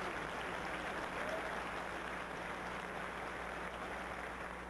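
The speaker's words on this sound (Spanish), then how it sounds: "Los asistentes aplaudían en repetidas ocasiones a manera de animar el evento" Audience at a public event applauding, a steady, even wash of many hands clapping that holds at a moderate level for the full few seconds, slightly distant.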